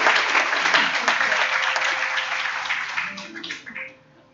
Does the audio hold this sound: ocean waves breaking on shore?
no